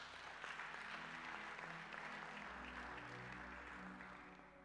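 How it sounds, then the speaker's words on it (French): A church congregation at a French-language prayer and teaching service applauds in a steady wash of clapping that carries on for several seconds and tails off slightly at the end, with music or a low hum underneath. "On peut acclamer la parole de Dieu."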